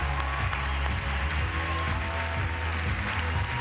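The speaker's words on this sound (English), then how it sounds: "He enjoys a round of applause" A large audience applauds to welcome Stephen Hawking and Felicity Jones, a steady, even wash of distant clapping held under a low hum for several seconds.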